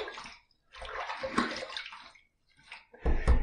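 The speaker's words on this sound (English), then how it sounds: "Let me splash a little water on my face" Water is splashed onto a face at a sink before a wet shave, heard as two bursts of splashing and running water separated by a short pause, then a louder splash near the end.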